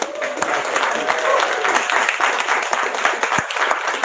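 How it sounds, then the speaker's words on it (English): A film festival kick-off audience applauding, a steady wash of clapping from a room of people, fairly loud and continuous with a few voices mixed in. "So give yourself a round of applause."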